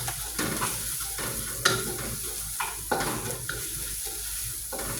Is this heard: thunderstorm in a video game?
no